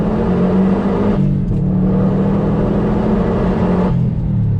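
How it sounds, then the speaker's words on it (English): A car with a Perrin cold air intake and a Cobb Access Port, in sport mode, pulls hard in second gear. The engine gives a loud, steady close drone that climbs in pitch, with brief dips at shifts. "We'll see if we can get a nice little second to third pull here. Up the boost a little bit. Second gear pull, sport mode."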